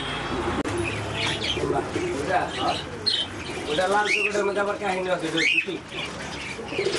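Pigeons on a pigeon farm coo and chirp close by, with soft overlapping calls under people talking.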